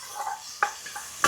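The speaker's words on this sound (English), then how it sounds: "We're just frying off the chorizo and the onions, just to get it a base layer." Chorizo and onions frying in a pan with little oil, a low sizzle under several sharp clinks and scrapes of a utensil against the pan.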